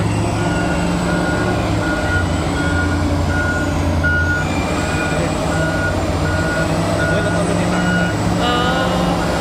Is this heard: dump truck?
yes